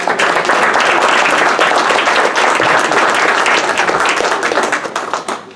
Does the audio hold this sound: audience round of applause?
yes